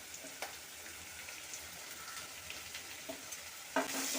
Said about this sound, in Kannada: ಇವಾಗ ಸೊಪ್ಪನ್ನ ಬೆರೆಸ್ಕೊತಾ ಇದ್ದೇನೆ.